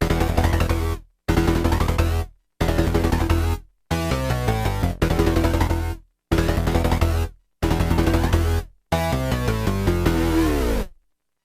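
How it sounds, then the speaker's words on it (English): Synthesizer chords repeat in short rhythmic bursts, swiped on the keys, separated by gaps while a slider-controlled filter sweeps, the tone growing brighter and then mellowing; loud and close, no speech. "So I swipe at the keys to create this rhythm while I move the slider."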